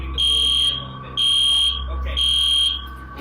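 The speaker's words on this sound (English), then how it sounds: "After a while, the fire alarm goes off, and the students retreat from the classroom." A school fire alarm sounds after an earthquake, giving three loud, steady electronic tones of about half a second each with short gaps between them, over a low background hum.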